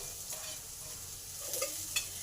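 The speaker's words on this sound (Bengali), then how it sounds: "এই আদাটাকেও কয়েক সেকেন্ড ভালো করে ভেজে নেব" Grated ginger frying in a pan for papaya pulao, a steady low sizzle with faint stirring scrapes and a couple of brief utensil clicks near the end.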